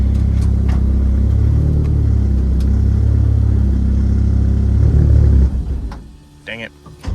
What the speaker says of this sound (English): I'm gonna drive it to the garage.